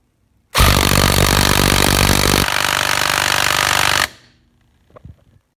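A Makita impact tool powered by a 54 watt hour 10-cell battery hammers loud and close for about three and a half seconds, changing tone partway through, then stops abruptly, leaving faint clicks.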